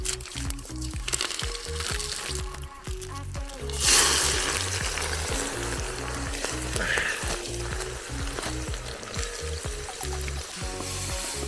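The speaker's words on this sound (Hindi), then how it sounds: "तो जी ये पड़ गया हमारा चिकन इसमें मस्त ढंग से। इसे हम प्याज के साथ ही भूनेंगे" Chicken fries with onion and whole spices in a pan at a group campsite, a loud burst of sizzling settling into a continuous hiss, with light stirring clatter and low clanks throughout.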